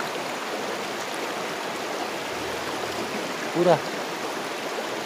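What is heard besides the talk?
flooded Torsha river flowing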